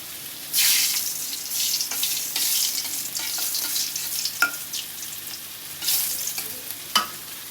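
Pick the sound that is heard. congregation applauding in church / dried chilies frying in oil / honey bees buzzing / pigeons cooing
dried chilies frying in oil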